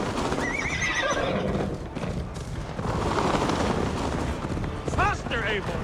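Horses neigh and whinny in the Viking-era open world of Assassin's Creed Valhalla, with bright rising whinnies near the end over steady hoofbeats and a busy game backdrop, while voices talk throughout.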